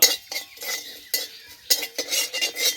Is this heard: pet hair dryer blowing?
no